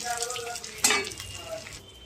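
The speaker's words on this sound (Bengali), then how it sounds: "আর এখানে বড়া ভাজা বন্ধুরা, দেখো বড়া ভাজা হয়ে গেছে বন্ধুরা।" Bora fritters frying in hot oil give a steady crackling sizzle, with one sharper burst near the middle and faint clinks of a utensil.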